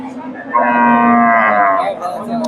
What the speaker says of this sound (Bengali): আর এটা গাভী